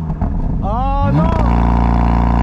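A BMW M3/M4 F8X fitted with an EVOX exhaust revving on launch control, climbing pitch then settling into a loud steady held drone, with people talking over it.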